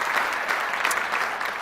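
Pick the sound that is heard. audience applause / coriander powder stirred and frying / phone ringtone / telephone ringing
audience applause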